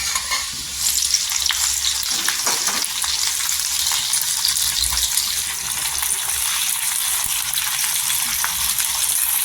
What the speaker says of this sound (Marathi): छान तेलावर परतून घ्यायचं